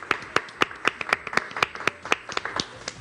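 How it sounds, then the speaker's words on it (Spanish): A small audience claps for guest presenters at a book launch, a few sparse, distinct hand claps in an uneven rhythm, fairly close and modest in volume. "Un aplauso para nuestras invitadas."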